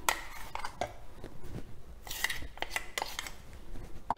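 Ground dal, green chilli and coriander paste being mixed by hand into a batter for alu vadi, giving repeated close clinks and scraping knocks against a bowl, with no talk.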